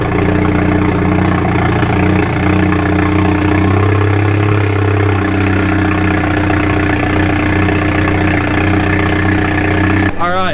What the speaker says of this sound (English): let's go ahead and get that cold start, or I guess semi-cold start